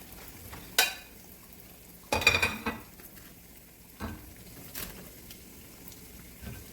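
Jamaican fried dumplings are lifted from and added to a pot of hot oil, with a soft background sizzle broken by several clattering utensil and pot knocks at irregular intervals.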